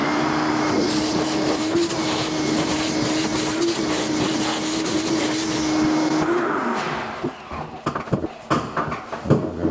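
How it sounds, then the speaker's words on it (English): A vacuum cleaner runs during a drain replacement, a loud, steady whooshing roar with a droning hum that stops after about six seconds, followed by scattered clunks and clatter. "I'll go ahead and vacuum this up"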